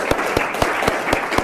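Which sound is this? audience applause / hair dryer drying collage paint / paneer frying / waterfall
audience applause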